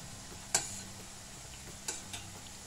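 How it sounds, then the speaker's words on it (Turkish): Thin finger-cut potatoes sizzle steadily in hot oil, a soft continuous crackle broken by a few sharp utensil clicks or stirs, close and fairly quiet, with no talking. "Patatesim bu arada kızarıyor."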